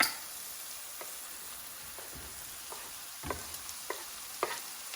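Jumbo black tiger shrimp and tomatoes cook in a pan over medium-high heat with a quiet, even sizzle, broken by a few soft stirring clicks and taps near the end.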